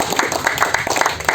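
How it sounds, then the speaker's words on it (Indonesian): Crowd at an Indonesian political rally clapping in a quick, uneven burst of applause, fairly close and loud, with no talk over it. "Tepuk tangan dulu. Tepuk tangan."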